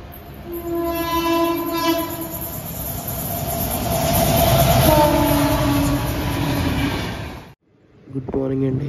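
A train passes at a station in the early morning on the Tirupati to Kakinada Port express route, sounding its horn in long loud blasts over rolling wagon rumble and screeching wheels, then cutting off abruptly into quieter tones.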